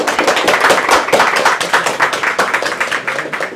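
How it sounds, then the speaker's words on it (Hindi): A crowd at a school gathering claps together for a student group, a dense, steady patter of many hands close by that holds evenly throughout without pause. "धैर्य ग्रुप के लिए एक बार ताली बजा दिया जाए"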